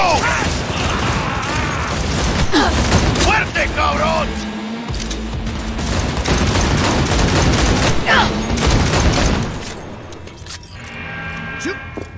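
Fast bursts of gunfire and mechanical clatter from the Cyberpunk 2077 video game fill most of the stretch loudly and continuously, mixed with shouted voices, before easing off near the end.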